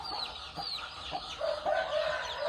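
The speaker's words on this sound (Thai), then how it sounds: "ลูกไก่ ชุดนี้ก็เป็น ตามสายเลือดก็เป็นพ่อเป็นลูกชายยอดมงคลนะครับ" Young chicks and hens cluck and peep together in a brooder with a heat lamp, a steady chorus of soft chirps and short clucks at moderate distance with no talking.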